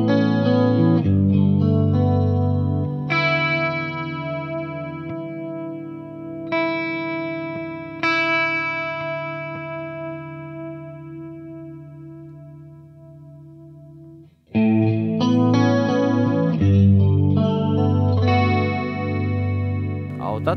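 Electric guitar through a DemonFx Mini Chorus effect pedal, warm shimmering chords ringing out and sustaining, strummed again after a brief pause, loud and close with no talking.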